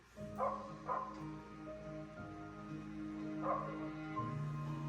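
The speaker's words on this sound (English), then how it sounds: "A corgi. It's the puppy." A corgi puppy yips and barks a few times in short bursts, fairly close, with steady background hum and some low rumbling between the calls.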